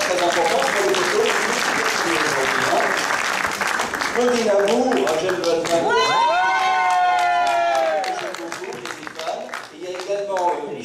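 An audience at a 2014 artists' finale show for Talents sans Frontières applauds and cheers loudly under an announcer's voice reading names, the clapping easing off after about eight seconds.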